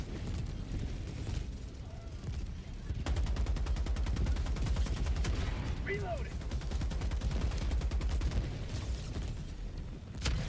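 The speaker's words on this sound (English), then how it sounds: "There goes one rocket." A rocket launches in Helldivers 2 amid dense, continuous combat noise. Heavy rumbling gunfire fills the whole stretch, with a louder surge partway through.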